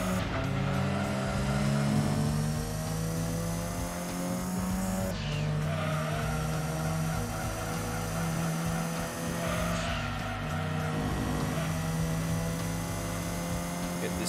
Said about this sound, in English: Way big drift.